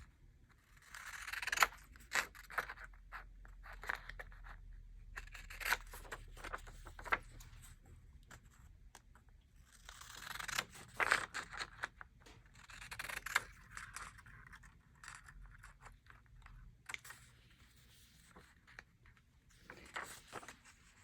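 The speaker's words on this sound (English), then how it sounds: "Then I'm going to use my scallop scissors to trim the edges." Scallop scissors trimming the paper edges of a vintage journal, giving repeated soft snipping and scraping cuts in uneven bursts, close and fairly quiet, with no talking.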